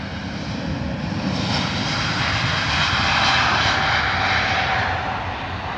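An Airbus A350 jet airliner departs Heathrow, its engines roaring loud and close in a broad continuous rush that swells midway and then slowly eases, with no voices.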